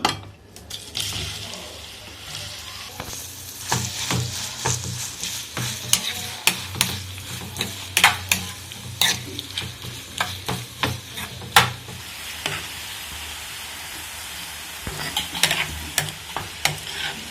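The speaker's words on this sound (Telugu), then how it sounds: "ఇప్పుడు ఈ నూనెలో బిర్యానీ కోసం ఉల్లిగడ్డ ఎంచుకుందాం." Onions frying in oil in a pot for mutton dum biryani, with steady sizzling and repeated stirring clinks and scrapes from a utensil against the pan, close and fairly loud without any talking.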